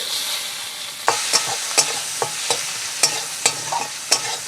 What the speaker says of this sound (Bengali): দুটো তেজপাতা দেওয়া হচ্ছে, আর সাথে থাকছে কুচনো পেঁয়াজ